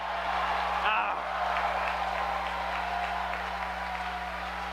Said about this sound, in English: you look at the crowd here, it's absolutely ecstatic for Washington